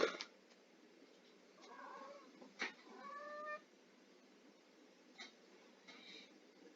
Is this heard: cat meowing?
yes